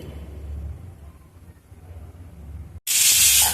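A pressure cooker cooking aloo kurma in a home kitchen lets out a sudden loud, steady hissing steam whistle near the end, after a stretch of low, quiet kitchen noise.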